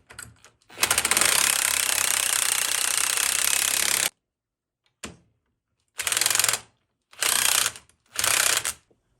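Bolts are ratcheted tight while mounting a 100cc two-stroke motorized bike engine: one long run of rapid clicking, then several shorter bursts separated by silence, loud and close.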